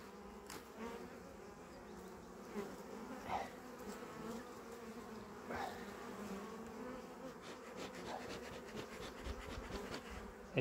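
Honeybees drone steadily around rural beehives, a continuous close buzzing hum with individual bees passing near the microphone at moments, heard alone without talk.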